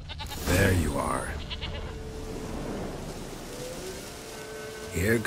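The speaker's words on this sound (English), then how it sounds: "Here, goat." A goat in The Witcher 3 lets out a wavering, nasal bleat close by, heard against steady rain-like ambience, and a second short bleat comes at the end. Someone speaks briefly in between.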